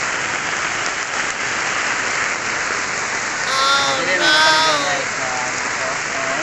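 Heavy rain pours in a dense, steady roar close by, and a voice calls out briefly partway through.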